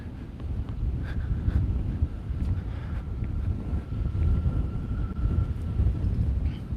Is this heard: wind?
yes